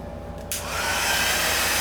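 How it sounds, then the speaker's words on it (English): A heat tool blows hot air to dry a craft project, switching on after a short lull into a loud, steady, close whoosh that holds to the end. "now we'll use the heat tool, and that might be a little noisy"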